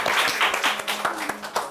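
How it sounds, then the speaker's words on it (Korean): A brief burst of clapping from a small group, uneven claps mixed with some murmuring voices. "박수 주세요."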